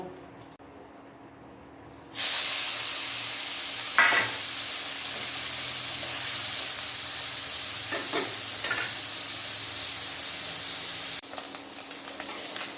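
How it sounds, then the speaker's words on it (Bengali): Prawns frying in hot oil for a tamarind sour dish with kohlrabi and radish stems: a quiet start, then a sudden loud steady sizzle with occasional sharper spits, continuing alone. "প্রথমে আমি চিংড়ি মাছগুলোকে ভেজে নেব।"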